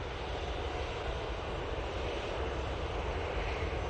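An airliner in Austrian Airlines livery roars steadily at Manchester Airport, a broad, even engine noise that holds without a break and has no voices over it.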